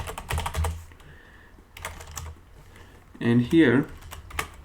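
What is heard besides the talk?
typing on a computer keyboard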